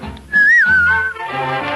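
A single clear human whistle from a stage production of Pinocchio, rising then gliding down in a bright sustained tone, close and loud, with soft background music underneath.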